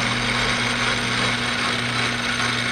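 A DC motor newly fitted to an Atlas/Craftsman metal lathe runs at a low setting, giving a steady, fairly loud hum with a constant electrical whine and mechanical rattle, uninterrupted throughout.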